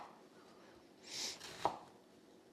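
A kitchen knife slices through a vegetable on a cutting board: one soft drawn-out slicing stroke, then a single sharp tap of the blade meeting the board, close and clear, with no talk.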